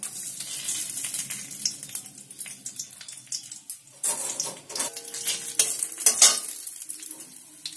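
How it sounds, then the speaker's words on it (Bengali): Whole cardamom, cinnamon and bay leaf hit hot oil for a vegetarian potato dum, crackling and sizzling up close with bursts of spattering and occasional utensil clinks, no speech. "একটা এলাচ দেবো তেলে, একটু ডালচিনি দিলাম, একটু তেজপাতা দিলাম"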